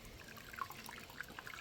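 A chicken carcass plunged into a pot of hot scalding water during home processing of meat birds, giving a faint, steady sloshing trickle with small drips and splashes throughout, close and alone.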